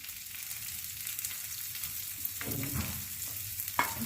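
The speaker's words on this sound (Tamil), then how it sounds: "எல்லாத்தையும் நல்லா வதக்கிக்கலாம்." Green chillies, curry leaves and asafoetida being stirred in a pan for coconut rice: a low steady sizzle of frying with scraping stirs of a spoon, brief clatters near the middle and end, close and alone with no talk.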